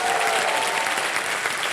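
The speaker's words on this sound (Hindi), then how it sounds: "जोरदार तालियां उनके लिए।" Loud, dense applause from a game show studio audience fills the whole moment, steady and close with no pause.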